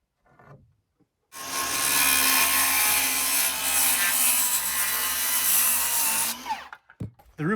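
A power tool cuts through the end of a 2x4 roof rafter on an off-grid cabin build. After a couple of faint taps, there are about five seconds of loud, steady, rough cutting close by, then a few knocks.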